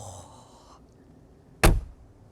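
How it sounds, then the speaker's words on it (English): A single heavy, solid clunk as the door of an electric Mercedes G-Class shuts, loud and close, after a quiet stretch. "My word, the clunk of those doors and pressing the button in."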